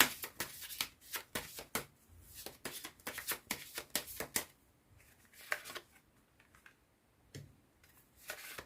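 Tarot cards being gathered and shuffled by hand: rapid bursts of crisp riffling and flicking, close-up, with a quieter stretch of soft slides and taps before a final flurry, no talking.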